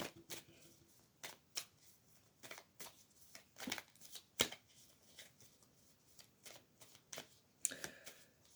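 A handmade deck of cards is shuffled and handled in a quiet room for a tarot-style reading, giving a series of soft, irregular riffling and slapping bursts close by.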